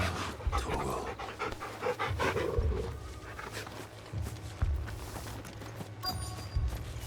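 A dog in Final Fantasy XVI pants steadily while being petted, quick rhythmic breaths close up with a low growly undertone, alone without talk.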